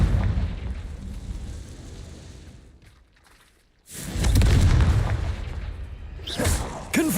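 Confringo blasting spell explosions in the Hogwarts Legacy video game, a loud booming blast that fades to near quiet, then another heavy roaring burst followed by sharper pops.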